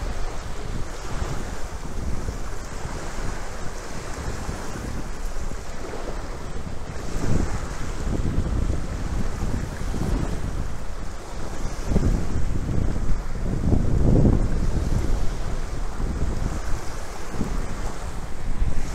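Sea waves washing onto the shore under steady gusty wind, a loud continuous rush of surf with swelling surges and heavy wind buffeting the microphone throughout, no voices.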